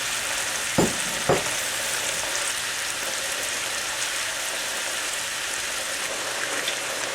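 A steady, dense sizzling bubble of eggplant casserole sauce coming to a boil fills the whole stretch, with two sharp knocks early on, like a utensil tapping the pot.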